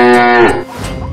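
A cow lets out a single drawn-out moo, loud and close, its tone sliding downward before trailing into a rough, fading tail that lasts about a second.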